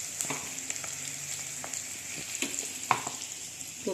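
Onion sautés in a pan for a yellow moong usal, giving a soft, quiet sizzle broken by scattered light clicks and scrapes of stirring.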